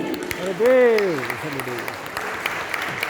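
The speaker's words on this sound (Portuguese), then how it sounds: "Você pode aplaudi-lo?" Church congregation at a Sunday morning Methodist service applauding, a soft diffuse patter of clapping beneath a prominent voice singing or calling out over it.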